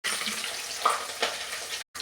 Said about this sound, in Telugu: కళాయి నూనె వేసుకొని ఆవాలు జీలకర్ర పాకు పెట్టుకుని